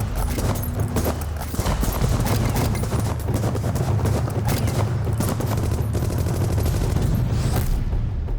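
Dense, continuous gunfire in a 1930s FBI shootout with the Barker gang at a house, many overlapping loud shots crackling without pause for the whole stretch and no talk.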